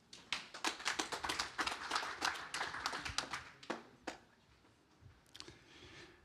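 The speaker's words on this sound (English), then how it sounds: "Big round of applause." Audience applause for a speaker at a tech conference stage, a thinning round of claps that builds quickly and then tapers off to scattered hand claps.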